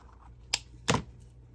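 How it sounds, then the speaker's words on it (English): Waxed linen thread snipped with scissors in a quiet craft setting: two short, crisp snips about a third of a second apart, close and moderately loud against low background hum. "This is waxed linen thread, so, and I'm just going to cut that off"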